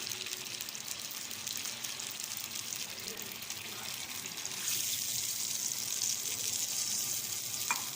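Hot water poured into a pan of sizzling onions and vinegar while cooking Egyptian koshari, with a steady frying hiss that swells into a louder rushing sizzle partway through, close and continuous.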